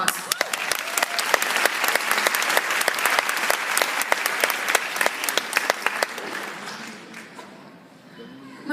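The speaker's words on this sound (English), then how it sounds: "Ladies and gentlemen, give yourselves a well-deserved round of applause." Graduates and guests at a valedictorian ceremony break into loud, sustained applause, sharp hand claps crowded together for several seconds before thinning out and dying away near the end.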